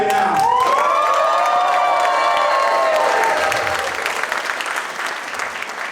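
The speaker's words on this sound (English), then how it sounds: "I want you to cheer." A large audience cheers and applauds loudly at a live event, with whoops and shouts rising at once and then slowly thinning out.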